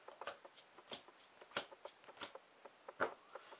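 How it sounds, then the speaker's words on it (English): Playing cards riffled and shuffled for a Yu-Gi-Oh duel, a run of crisp, quick flutters and snaps with a few louder bursts, close and alone with no talk. "that's enough shuffling"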